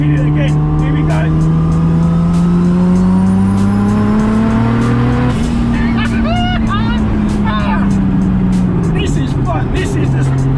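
A turbocharged RB25-engined Datsun 260Z accelerating hard, engine drone rising steadily with a whistling turbo spool climbing over it, loud and close from inside the car, with brief shifts and tones between pulls.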